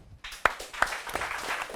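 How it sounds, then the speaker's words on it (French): Scattered applause from a comedy show audience for a contestant, with a few sharper claps standing out over a low, thin patter. "On applaudit encore Esther Sam, s'il vous plaît."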